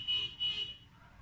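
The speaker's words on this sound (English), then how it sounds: "the honks are super noisy" Car horns honk outside, faint and distant, in two short high-pitched toots in quick succession before fading into quiet room tone.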